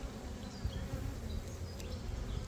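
Honey bees swarm an opened backyard hive during an inspection, giving a continuous low droning buzz, fairly quiet and close, with no voices.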